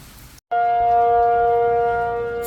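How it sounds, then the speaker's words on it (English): A tornado warning siren wails loud and steady, a sustained tonal blare that starts abruptly after a short gap and holds on with slowly fading strength, with rain in the background. "It's been a while since I've heard this sound. We have a tornado warning."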